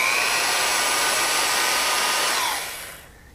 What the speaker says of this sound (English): The high torque motors power these two stainless steel cleaning heads in a rotary motion over the carpet at